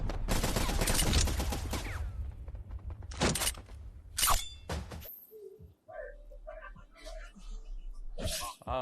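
Rapid, dense bursts of gunfire from the Tamil action film Jailer crackle loudly, then give way to sparser sharp shots, with voices talking over the action.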